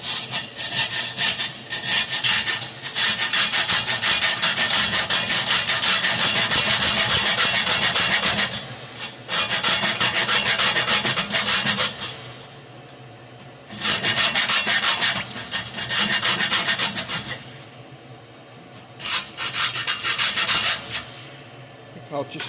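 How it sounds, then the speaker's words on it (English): Metal is sawn by hand while building a live steam model of a Britannia locomotive, with rapid rasping strokes in long bursts broken by short pauses, close and loud. "We haven't got to do a lot of sawing, so I'll give that a go"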